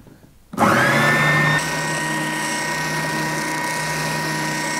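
A Triton TSPS450 oscillating spindle sander whirs up from quiet into a loud, steady high-pitched hum, then settles at a slightly lower constant drone.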